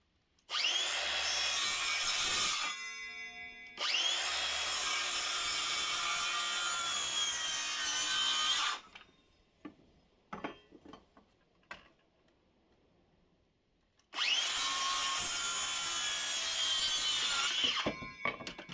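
A hand saw cuts through log wood on a traditional log sauna in long, loud rhythmic strokes, pausing for a few seconds of light knocks and clicks before sawing resumes.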